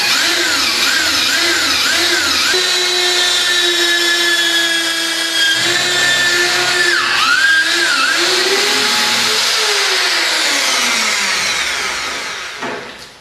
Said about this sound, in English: So you're just going to drill into your bar, keep your drill nice and level both ways.